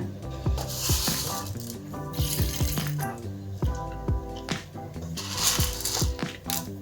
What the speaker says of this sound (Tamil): இப்போ பாருங்கள் ஹீட் ஆகிடுச்சு இப்போ நான் கடுகு போட்டுடுறேங்க